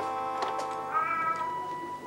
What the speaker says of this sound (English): Cats, I'll feed you in a minute.